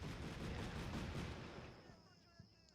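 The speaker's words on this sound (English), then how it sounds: "Yeah, that's mortar" Mortar fire booms in a tactical war video game set in a Russian–Ukrainian battle, a dense rumbling barrage of blasts that fades into quieter crackles and a faint high whine.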